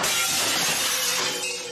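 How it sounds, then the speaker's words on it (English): A single loud shatter of breaking glass in the horror game Mad Father, a bright crash that rings out and slowly fades, with no talking. "He broke the glass."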